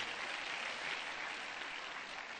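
Sustained audience applause fills the hall at a Utamaduni Day cultural celebration at Bomas of Kenya, steady dense clapping throughout, loud and close with no speech over it.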